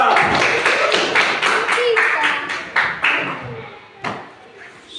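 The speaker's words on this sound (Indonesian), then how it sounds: "Ya, berikan tepuk tangan untuk teman kita kelompok 2." Classroom applause for a student group, a quick burst of many hands clapping in rapid rhythm that thins to scattered claps and then a few isolated ones near the end.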